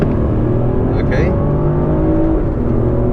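Mercedes-Benz CLS450 with a 3-liter engine driving on the road, a steady loud engine hum and drone running throughout, with a person talking over it.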